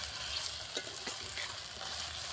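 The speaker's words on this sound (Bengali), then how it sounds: "আদা রসুনটা দিয়ে এখন আমি ভালো করে ভেজে নিচ্ছি" Ginger and garlic fry in a pan for a home-style chicken and potato curry, a steady close sizzle with a few soft stirring scrapes and taps, no voices.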